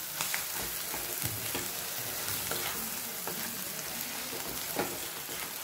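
Potato samosa filling sautés in a little oil, a dense, even sizzle close by, with occasional stirring scrapes and no talk.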